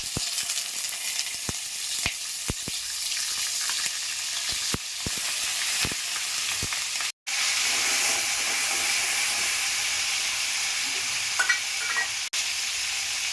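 Steady oil sizzle and hiss of round-sliced raw banana frying in a pan, with occasional sharp clicks and stirring scrapes, continuous and close.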